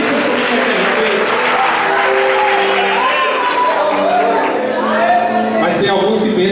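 A church congregation claps loudly and steadily throughout, a dense wash of applause with voices and chatter mixed in, close and filling the room.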